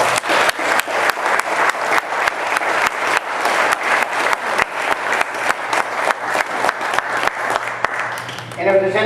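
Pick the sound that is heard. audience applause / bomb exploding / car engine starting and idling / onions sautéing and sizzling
audience applause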